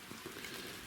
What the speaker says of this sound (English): Well, look at this. We've actually got rain.